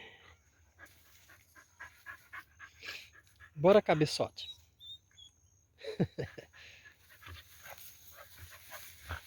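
A female dog pants in quick, breathy bursts close by, mixed with a few whimpery squeaks, while someone speaks intermittently in a quiet room.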